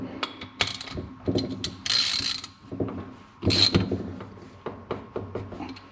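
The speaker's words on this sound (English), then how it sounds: "So I would just do them good and tight with a little ratchet." Small hand ratchet tightening the bolts on an Evo 8 Brembo brake caliper during a rebuild, giving close bursts of rapid clicking separated by brief pauses and occasional knocks of tools.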